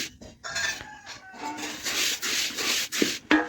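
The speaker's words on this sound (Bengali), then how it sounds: "শুকনো চাল নাড়তে কিন্তু বেশিক্ষণ যায় না, খুব তাড়াতাড়ি নাড়া হয়ে যায়" Dry rice is stirred in a hot pan while being heated for puffed rice. Quiet scraping, rustling strokes come in uneven bursts, close by, with no speech.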